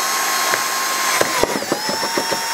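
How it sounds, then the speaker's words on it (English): A power drill bores through the cardboard shell of a camera under firm, steady pressure, making a loud continuous whine close by, with uneven rattling bursts as the bit bites into the material. "just put some nice firm pressure and start drilling, keeping it nice and steady"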